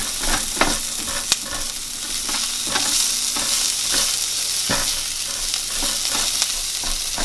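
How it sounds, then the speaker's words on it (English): Chopped onions frying and sizzling in a pan, a steady close hiss with occasional stirring clicks and scrapes, no voices. "Just separate all the onions so they can start cooking evenly."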